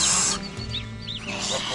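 A grey domestic goose named Grey hisses hard in a farmyard, where baby geese have just been brought in. Breathy hissing bursts sit close and loud over faint background calls.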